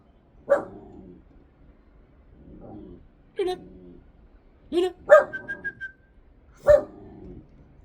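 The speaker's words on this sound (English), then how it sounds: "It's a little puppy barking here." A small dog lets out a series of short, high yips and barks with pauses between them, fairly close in an otherwise quiet space.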